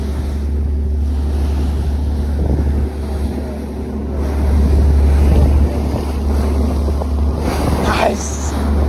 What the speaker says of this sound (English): windy now. Oh, big waves.